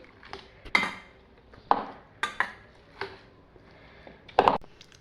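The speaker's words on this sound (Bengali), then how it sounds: "সবজিটা এখানে বয়েল হয়ে গেছে, এখন এটা মিক্স করে নিচ্ছি।" A spoon clanks against a metal pot while boiled vegetables are being mixed. There are about six sharp scraping knocks at irregular intervals, close and fairly loud, with no talking.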